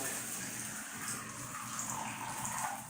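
Water pours steadily into a plastic bag, a soft continuous gush and trickle with no talking over it.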